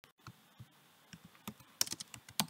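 Computer keyboard typing with a web address being keyed in, a run of quick, close, light key clicks in an irregular rhythm with a few sharper taps near the end, no voices.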